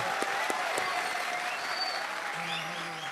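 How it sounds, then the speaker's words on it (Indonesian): Applause from an audience at an Islamic religious gathering (pengajian) in Indonesia, a steady dense patter of many hands clapping throughout, moderately distant, with faint crowd murmur beneath. "Oke, tepuk tangan buat marginal."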